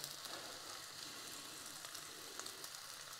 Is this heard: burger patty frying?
yes